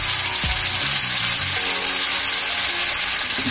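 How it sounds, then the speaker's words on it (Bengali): Ginger, green chili, tomato and cumin paste sizzles loudly in a pan of fried onions, a steady bright hiss lasting throughout with a few faint clinks and stirring sounds underneath. "পেঁয়াজটা ফ্রাই হয়ে এসেছে। এবার এর মধ্যে দিয়ে দিচ্ছি আদা, কাঁচা লঙ্কা, টমেটো আর জিরে পেস্ট।"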